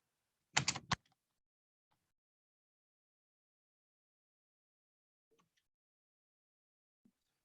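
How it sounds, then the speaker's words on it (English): A short, quick burst of clicking keystrokes on a computer keyboard is followed by near silence with a couple of tiny faint clicks, all quiet and close. "To do that, I type this"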